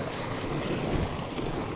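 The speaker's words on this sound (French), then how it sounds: "passage de torrent" A mountain torrent rushes past during a snowy bike ride as riders cross it. The broadband roar of water is close, dense and steady throughout, with some wind buffeting the microphone.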